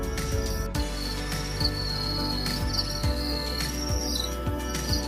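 Steady high-pitched chirping from farmed crickets fills the space, a dense continuous trill with repeated pulses, over a low background hum and occasional soft knocks.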